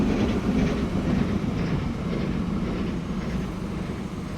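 A radial tank steam locomotive pulling into a station in the Transport Fever 2 rail game, its steady rolling rumble and rail clatter loud and continuous throughout.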